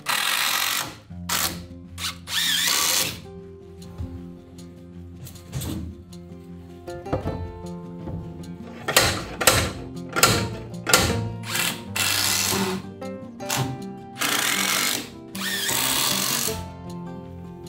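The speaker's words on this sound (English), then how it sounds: "I'll also firmly screw the studs into the support materials." Power driver screwing wooden studs into support framing during Japanese-style carpentry on a raised floor area, heard as repeated short bursts of motor whine with pauses and clattering handling noises between them.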